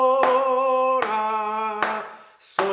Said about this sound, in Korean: 이번에는 한 박자를 한 번 박수 치는 거